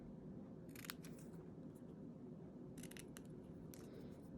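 Scissors snip a small piece of paper for a handmade card, two quick bursts of crisp cutting, close and quiet with soft room hum between them.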